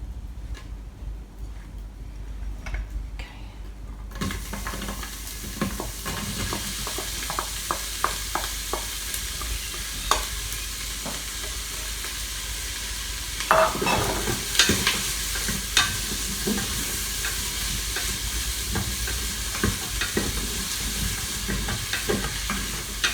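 Onions fry in hot olive oil with a continuous loud sizzle after a quieter start, accompanied by frequent scraping and stirring clatter of a spatula against the pan throughout.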